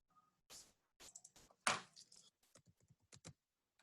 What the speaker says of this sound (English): Let's do typing this time.